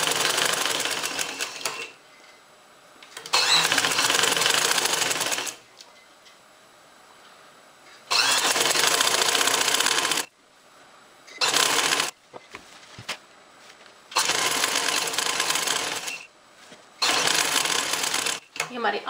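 A sewing machine stitches along a trouser fold in several separate bursts of fast, close mechanical rattling, with quiet pauses and handling sounds between runs.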